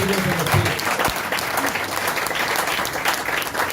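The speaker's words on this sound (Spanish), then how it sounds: "Denle un fuerte aplauso al que vive por los siglos de los siglos." Loud, dense applause from a church congregation at a worship service fills the space, continuous and even throughout with no break.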